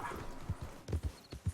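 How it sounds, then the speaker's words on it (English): Horse hooves clip-clopping in the Red Dead Redemption 2 video game, a quick uneven series of close, soft thuds with a brief whinny at the start. "Oh, horse."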